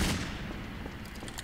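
A muffled boom of gunfire in Garry's Mod fades into a low, rumbling reverberating tail, with faint distant shots popping near the end.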